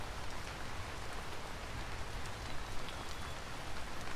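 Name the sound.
rain hitting leaves in Vintage Story video game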